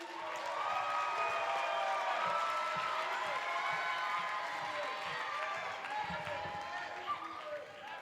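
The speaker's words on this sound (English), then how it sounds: "Please applaud for Dylan." An audience at the CUPSI 2010 collegiate poetry slam finals claps and cheers for poet Dylan Garity, a dense, steady wash of applause that tapers slightly toward the end.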